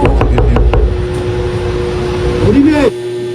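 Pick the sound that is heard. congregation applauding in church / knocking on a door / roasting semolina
knocking on a door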